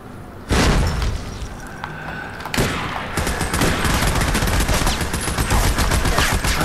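Dense gunfire fills the scene in Army of Two, with sharp automatic bursts and heavy booms from grenade explosions. It keeps up loudly and without a break over several seconds.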